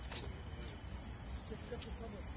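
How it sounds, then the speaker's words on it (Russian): A cicada in a city square in Volgograd gives a steady, unbroken high-pitched buzz throughout, moderately quiet over soft outdoor background noise. "Кажется, что это цикада."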